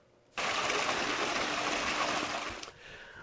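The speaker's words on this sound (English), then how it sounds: "here's a waterfall running from our stub up." Water pours steadily from a swimming pool waterfall fed by a stub-up plumbing outlet on the deck, a continuous broadband rushing that starts abruptly, holds even for a few seconds, then drops away.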